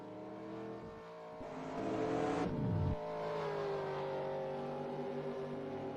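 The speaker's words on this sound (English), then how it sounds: "You hear the leaders clutching right now." Race car engines in a NASCAR Winston Cup racing game at Texas, a revving engine that climbs in pitch, cuts sharply as if clutching, then drops to a steady lower drone, moderately loud with no talk.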